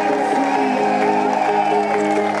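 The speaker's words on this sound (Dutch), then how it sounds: "Mag ik nog een laatste geweldig daverend applaus." Audience at a charity sponsored run event giving a long, loud round of applause with crowd noise, steady and dense from start to finish.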